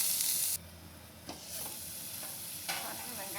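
Onion, tomato and green chilli sautéing and being stirred in a pan for a cauliflower masala gravy, a steady close sizzle broken by a few scraping stirs, with no talking.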